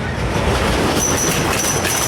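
The Nickelodeon Streak roller coaster rushes past at Blackpool Pleasure Beach with a loud, continuous rumbling clatter of wheels on track, close by and steady, with no talk.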